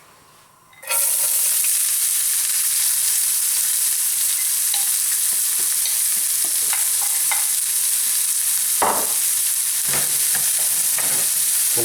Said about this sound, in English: that oil now is infused with cardamom, cloves and cinnamon, and it's ready for the onion.